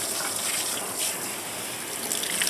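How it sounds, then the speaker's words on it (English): A tap runs in a steady gentle stream to rinse a reusable performance air filter, a continuous bright splashing hiss close by with no talking. "all we're going to do in my case is turn the water on"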